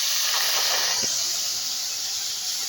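Half a bowl of water hitting hot caramelizing sugar, a loud sudden steamy hiss and sputter that bursts up at once and then slowly fades, with no voices.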